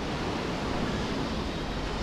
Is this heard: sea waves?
yes